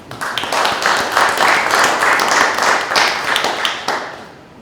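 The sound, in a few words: applause for everyone present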